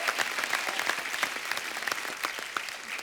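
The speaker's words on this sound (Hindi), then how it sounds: "जोरदार तालियां होनी चाहिए।" A studio audience on The Kapil Sharma Show applauds, dense steady clapping filling the room from start to finish.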